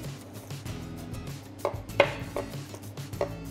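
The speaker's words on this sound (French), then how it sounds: "Je vais tailler la carotte" A knife coarsely chopping carrot on a board, a few separate sharp cuts sounding in an irregular rhythm over a low background hum, close and fairly quiet.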